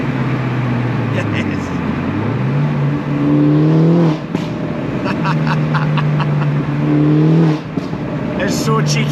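Engine note from a modified Mini Cooper S John Cooper Works rises and holds through repeated throttle pulls, loud and close with short gaps at gear changes, while a voice speaks faintly over the drone.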